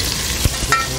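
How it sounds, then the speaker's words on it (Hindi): Garlic paste and chili paste sauté in a pan with a brief loud hiss, punctuated by a couple of quick spatula scrapes in a short burst. "कच्चापन निकलना बहुत जरूरी है लहसुन का, इसके लिए भून रहे, भून रहे, इसलिए भून रहे।"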